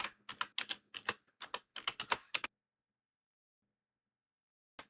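Quick bursts of close computer-keyboard typing, with rapid clicks in uneven clusters for a couple of seconds, then silence and one last stray keystroke.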